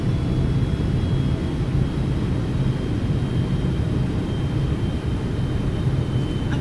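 A Boeing 777 on landing approach into Sydney in the X-Plane 12 flight simulator, heard as a steady, loud broadband engine and airflow roar with a faint high whine running throughout.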